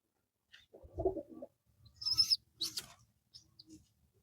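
Young Jalali pigeon chicks make a few soft, quiet cooing and squeaky calls in short separate bursts, with silence between them.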